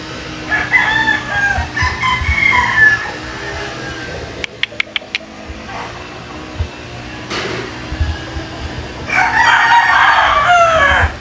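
Broodstag roosters crow loudly, several long calls near the start and end, with softer clucking and farmyard noise in between and a short burst of sharp clicks midway.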